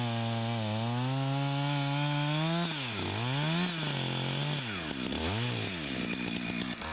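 Chainsaw cutting the buttresses off the base of a tree, a loud, close engine that revs steadily, then dips and surges repeatedly as the chain bites into the wood, with no talking.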